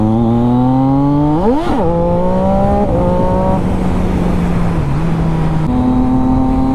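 Triumph Daytona 675 motorcycle at full throttle on a highway, engine note climbing steadily through the revs with gear-change dips, loud and close over constant wind rush.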